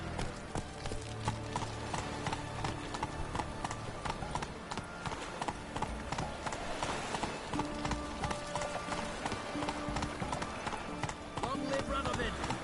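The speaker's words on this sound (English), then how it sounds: "Run, Roach." Hooves of the horse Roach clip-clop in a steady galloping rhythm in The Witcher game, set in a fantasy medieval world, running continuously and fairly loud with a voice heard over it.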